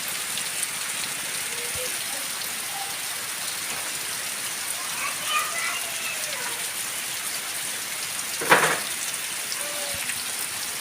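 Monsoon rain falls steadily on the Konkan countryside, an even close hiss with faint scattered bird calls and one brief sharp knock near the end.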